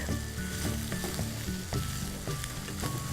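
Cauliflower fries in oil with garlic over a high flame, a dense, continuous sizzle close up, with soft rhythmic stirring scrapes throughout.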